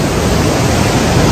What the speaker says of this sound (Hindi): मेरी बाइक साइड पे ये देखिए पानी जो है वो बहुत स्पीड से